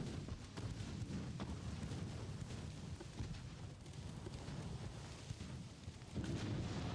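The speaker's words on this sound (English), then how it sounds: "Torpedo hit." A torpedo strikes a ship in the naval warfare game Ultimate Admiral: Dreadnoughts during a battle, producing a continuous booming, rumbling explosion with crackling gunfire-like bursts. It stays loud throughout and swells even louder near the end, with no talking.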